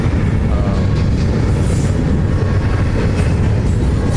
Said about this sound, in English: Had to cross the tracks before the train got here